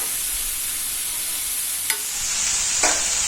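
Broccoli, carrot and potato sautéed with spices in a hot pan, a continuous loud sizzle with two brief scraping stirs.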